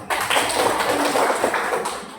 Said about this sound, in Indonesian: kita tepuk tangan buat Firman dulu